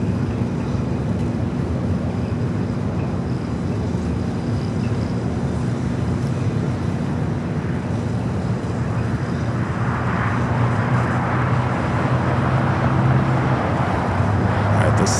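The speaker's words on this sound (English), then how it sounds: "A321 rocking and rolling down the 25 at right" An Airbus A321 takes off on runway 25 right at Los Angeles International Airport. A loud, steady jet roar fills the whole stretch and grows brighter and more forceful toward the end of the takeoff roll.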